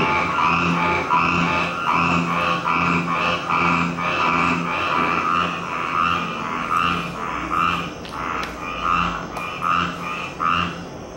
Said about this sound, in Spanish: Como un pato, y de hecho así le dicen, la rana pato o pico del pato